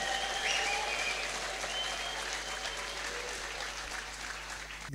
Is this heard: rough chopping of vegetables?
no